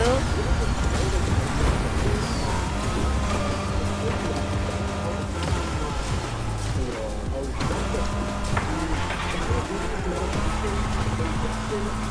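Cars race in the Fortnite video game, with a continuous droning engine and road roar that holds steady and varies slightly in pitch, under people talking.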